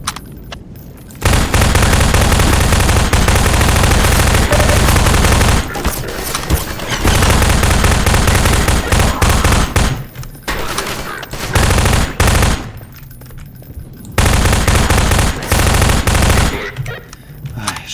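Sustained SMG fire in Half-Life 2 sounds as long, loud automatic bursts broken by brief pauses, close and dominant, with a few isolated shots near the end.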